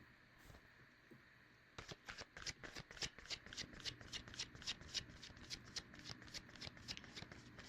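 A deck of tarot cards is riffled and shuffled close up, with a couple of soft taps followed by a quick, even run of crisp flicking card sounds, quiet and alone.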